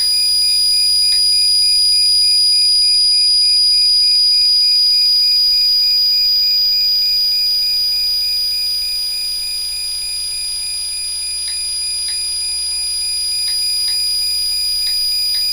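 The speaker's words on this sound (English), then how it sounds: "That EMF's going into it, spiking right up. Hear that?" EMF meter alarm during a ghost investigation at 30 East Drive: a loud, continuous high-pitched electronic tone held for about fifteen seconds, with faint ticks beneath and no voices.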